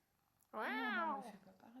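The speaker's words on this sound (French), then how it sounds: "On s'arrête pendant quelques heures pour rencontrer un chat qui pue de la gueule." A single clear cat meow, close and fairly loud, rising and falling for under a second against a quiet background.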